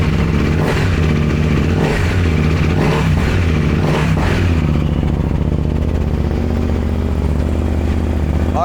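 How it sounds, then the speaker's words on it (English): Loud, steady close-range idle of a 2022 KTM Duke 890R motorcycle fitted with an Akrapovic exhaust and its baffle in place, a few throttle blips early on before settling into an even rumble, with no voices. "exhaust is installed, and we're gonna turn it on with the baffle"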